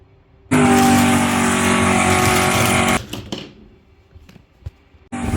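Toy cars, a Lexus and a Ford GT40, race down a track with a loud sustained whirring rush lasting a few seconds, followed by scattered clatters and bumps before another burst of rolling noise starts at the end.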